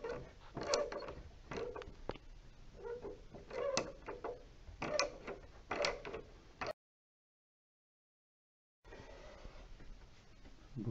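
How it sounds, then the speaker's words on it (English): Screws are driven into the crossbar of a NordicTrack 1750 Commercial treadmill during assembly, giving close, irregular ratcheting clicks and metallic turns, with a short gap of silence before the work resumes. "I'll go ahead and put those in now."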